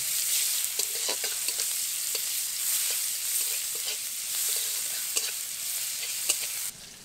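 Chopped onion fries in mustard oil with a bay leaf, a dried chilli and five-spice seeds, making a continuous close sizzle broken by frequent small ticks and scrapes from stirring.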